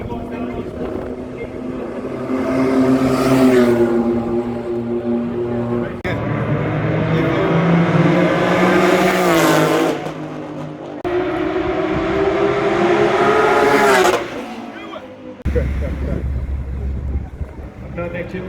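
Race cars climbing an uphill race course, each one roaring past with rising then falling engine pitch in repeated close passes, loud over wind buffeting, with people talking in between.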